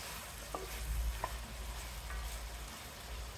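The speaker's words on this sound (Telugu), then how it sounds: "కూరకు సరిపడా అల్లం వెల్లుల్లిపాయ పేస్ట్ వేసి ఒకసారి తిప్పుదాం" Chicken fry in a pan being stirred after ginger garlic paste is added with onions in oil, a steady low sizzle with a few light scrapes and taps of the spoon.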